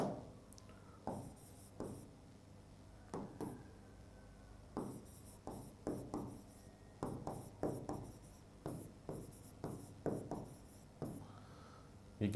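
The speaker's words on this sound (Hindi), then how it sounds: "इसको मैं दोबारा से लिख लेता हूं।" A pen or marker writing by hand during a geometry lesson on centroids, with short rhythmic scratching strokes in quick bursts and small pauses, fairly quiet and with no talking.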